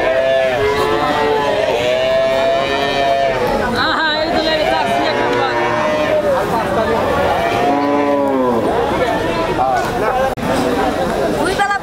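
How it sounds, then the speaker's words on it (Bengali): Dairy cows, including Friesian cows, moo repeatedly at a busy rural cattle market, their calls rising over steady crowd chatter and people talking nearby. "এই হাট থেকে আজকে আপনাদেরকে কিছু গাভী গরু দেখাবো"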